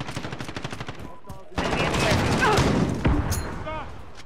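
Rapid automatic gunfire rattles in a Call of Duty Hardpoint match, a dense close burst thickening after a short pause, with a player's voice talking over the shooting.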